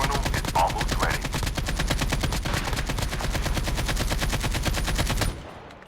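Rapid automatic gunfire in the mobile shooter COD Mobile Warzone, a loud sustained burst of evenly spaced shots lasting several seconds before cutting off abruptly, with no talking.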